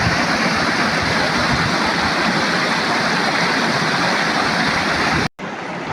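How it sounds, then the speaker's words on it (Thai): Waterfall water pours in a steady, loud, broadband rush that stays close and constant before cutting off abruptly near the end. "น้ำตัวตาดเด้อพี่น้องเด้อ"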